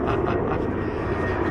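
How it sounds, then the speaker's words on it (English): An airplane flies overhead near Glenelg beach, its engine making a steady, fairly loud droning roar that holds evenly from start to finish with no talking. "you can probably hear the plane in the background."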